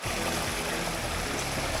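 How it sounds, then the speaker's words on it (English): A jungle waterfall in Thailand roars as a steady, dense wash of rushing water that fills the whole moment without pause, with no voices over it. "Waterfall."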